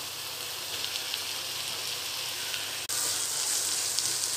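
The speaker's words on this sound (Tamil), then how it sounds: "இப்போ இதோட வெண்டைக்காவும் சேர்த்துடலாம்." Ladyfinger (okra) sizzles steadily in hot frying masala for a South Indian tamarind curry, a close, continuous crackle with a brief dip midway, no voices.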